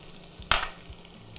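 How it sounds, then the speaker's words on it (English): Steak pieces frying in a pan with barbecue sauce, a faint steady sizzle with a sudden brief hiss as food is stirred, quiet and close. "do you guys hear that sizzle? Oh, the barbecue sauce tightened up right around the meat"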